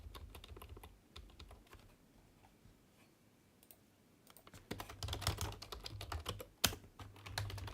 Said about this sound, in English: Press the arrow keys.